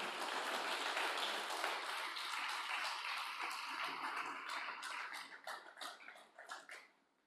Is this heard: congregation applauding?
yes